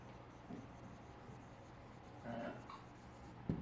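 Chalk or marker writing a sentence on a classroom board, faint short scratchy strokes in a quiet room, ending with a brief tap.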